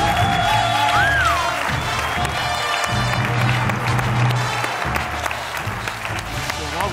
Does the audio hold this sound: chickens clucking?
no